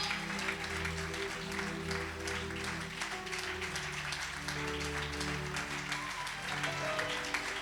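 A church congregation claps loudly and steadily in a dense, continuous wash of hand claps, with sustained musical tones running underneath throughout.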